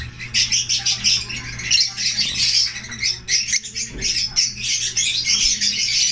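Many caged birds being sold squawk and chirp together in a dense, continuous chorus, close and fairly loud, with a low steady hum underneath.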